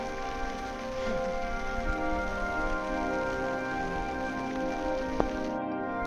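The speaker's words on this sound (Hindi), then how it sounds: "लगातार सुबह से हल्की बारिश और कोहरा" Steady light rain falling on a foggy mountain trek, a continuous soft patter that runs evenly for the whole stretch with no voices over it.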